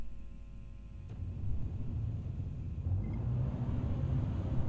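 Cockpit view of the Aegis Retaliator spaceship in the Star Citizen video game, a deep, steady engine rumble that swells slightly after a faint click, droning continuously with no talk.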